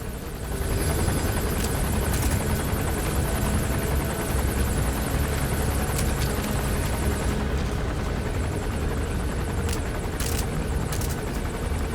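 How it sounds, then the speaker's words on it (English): A helicopter in the video game Metal Gear Solid V: The Phantom Pain produces a steady, loud rotor roar that stays constant throughout, with a few sharp higher bursts near the end. "Bloody helicopter."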